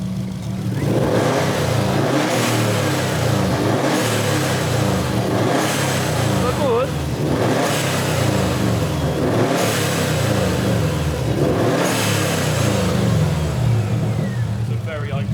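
A Subaru Impreza WRX boxer engine revs repeatedly in rising, surging pulses with a loud rumbling tone, while people talk over it nearby.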